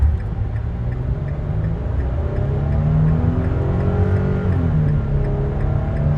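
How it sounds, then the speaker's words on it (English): A 2023 Nissan Frontier Pro-4X pickup accelerates hard on an interstate while towing a trailer, its engine a steady, loud drone with rising harmonics sustained throughout, heard from inside the cab. "I gotta set up the draggy so we can do a 0 to 60 run"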